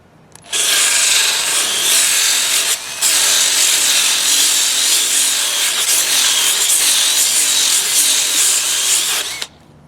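A cordless 12V Altocraft polisher/sander rounds over the edge of a wooden piece outdoors, giving a steady loud whirring rub that runs almost the whole time, with a brief dip partway through before the abrasive contact resumes.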